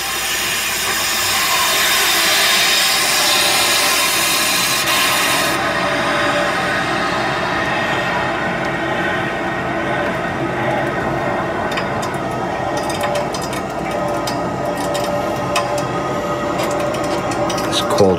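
Cold water rushes through a pressurized plumbing line as the valve opens, a loud, steady hiss that drops slightly partway through and carries on with faint clicks and knocks.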